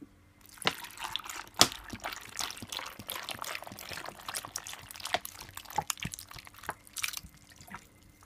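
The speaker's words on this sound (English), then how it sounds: "And I'm also gonna add some water to it." Water is poured into a raspberry juice drink with ice, giving a close, soft trickling and splashing with scattered drips over several seconds.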